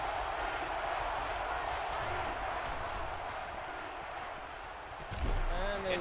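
Stadium crowd noise from the video game NCAA Football 12, a steady broad roar of a large crowd during a 3rd-and-short defensive stand, holding loud and even before a brief swell near the end.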